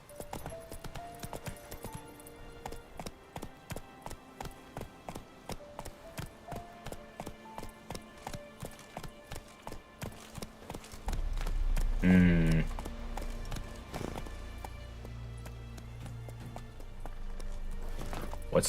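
Roach the horse galloping in Witcher 3, with a fast, regular run of close hoofbeats that gives way to louder game music and ambience near the end.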